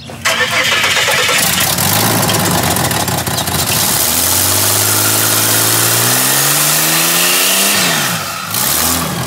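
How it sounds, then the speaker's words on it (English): A Ford AU Falcon engine fitted with twin turbos cranks, catches and revs hard under load, its pitch climbing in rising harmonic sweeps before dropping off near the end; loud and close. "But the motor, it does not sound the best."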